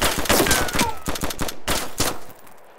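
A burst of gunshots in the DayZ survival game, a rapid run of loud, close sharp cracks in quick succession followed by a few more spaced shots, with no talk over them.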